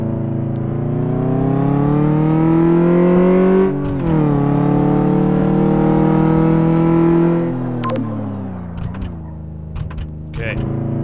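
A car revs hard in the racing game Car Mechanic Simulator 2015, its loud engine tone climbing through the gears with a brief dip partway, then fading out near the end under a few sharp clicks.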